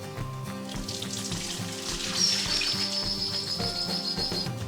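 Water streams steadily over fish roe held in a sieve while it is rinsed to make homemade caviar, a continuous splashing hiss with a higher ringing trickle midway, no talking.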